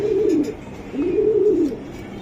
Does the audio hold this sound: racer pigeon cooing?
yes